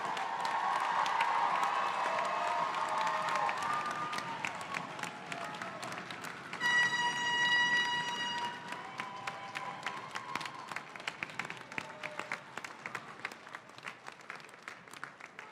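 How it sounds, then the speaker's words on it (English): Audience applause for adult education graduates at a 2022 graduation ceremony, sustained crowd clapping with cheers fading gradually as music tones ring out briefly in the middle. "Please give our graduates a round of applause"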